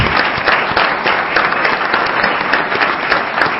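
An audience gives a big round of applause to two drum majors at a band awards evening: dense, loud, continuous clapping from a crowd that never lets up.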